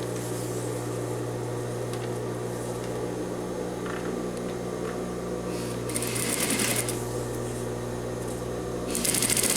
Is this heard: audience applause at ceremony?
no